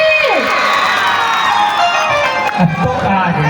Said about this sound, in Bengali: ওরা কুলকুলি দিছে হাত তালি দিছে